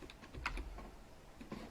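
Keys clatter on a computer keyboard as a word is typed out, a quick run of close, crisp clicks with a busier burst midway and a few spaced taps near the end.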